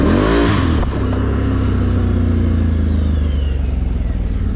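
A Can-Am Renegade 1000 ATV in low range and 2-wheel drive runs at close to half throttle, its engine loud and close with a steady throbbing drone after a brief rising rev at the start.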